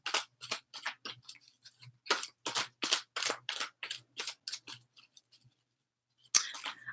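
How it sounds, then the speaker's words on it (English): Tarot cards shuffled by hand at close range, a run of quick crisp riffling bursts in an uneven rhythm with brief pauses, and no voices over it. "as I'm shuffling"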